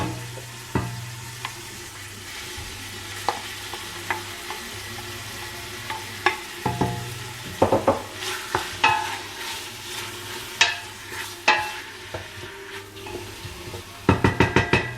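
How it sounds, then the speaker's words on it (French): Meat browning in a pan as a base for Moroccan couscous, with onion about to go in, gives a steady close sizzle broken by frequent scraping stirs and clinks of a utensil against the pan, without any talking. "Donc là, ma viande commence à griller, si vous voyez."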